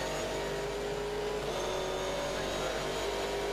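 Onboard engine note of a V8 SuperTourer race car at Hampton Downs, a steady, faint high-pitched drone held at constant revs with no clear gear changes.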